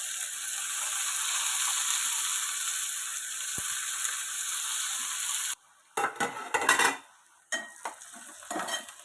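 Onions and green chillies fry in a pan with a steady bright sizzle for several seconds, then the hiss drops away and gives way to a run of close, loud scraping and clattering stirs against the pan; no speech.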